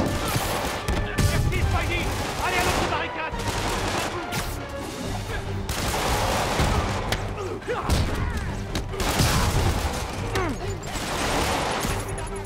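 Enemy gunfire and grenade blasts in Spider-Man on PS4, a dense, continuous barrage of shots and thuds filling the whole stretch, with a voice talking over the combat.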